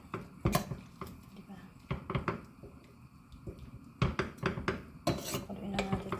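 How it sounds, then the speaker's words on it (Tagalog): A spoon clinks and scrapes against a pot while seafood sotanghon soup is stirred, giving irregular metallic taps and knocks at close range over a quiet background. "Paluin lang natin ito ng konti."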